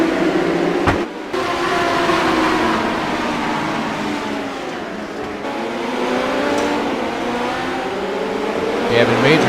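Race cars roar around a dirt oval in an iRacing sim race at Williams Grove, a loud, continuous engine drone with shifting revs and a brief dropout, under a commentator's fast play-by-play.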